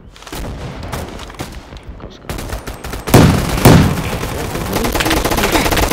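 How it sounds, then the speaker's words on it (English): Gunfire in a bursts-and-volleys pattern, a quick string of sharp cracks with louder reports toward the middle and end, while people react with short excited voices underneath. "Where are the shots coming?"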